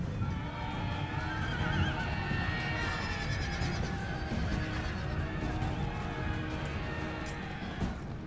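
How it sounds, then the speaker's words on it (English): Cavalry horses in the Empire: Total War battle game neigh and whinny repeatedly over a dense, continuous rumble of hooves and battle noise, loud and unbroken throughout. "And here comes my regiment of horse."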